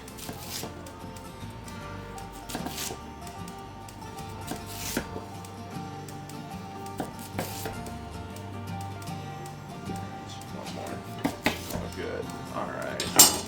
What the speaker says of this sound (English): first thing I'm going to do is cut my potato into rounds, maybe about 1/2 inch thick